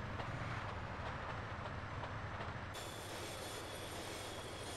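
Train in GTA San Andreas pulling toward San Fierro station, a steady loud rolling rumble with rail noise that continues throughout and shifts in tone partway, with no talking.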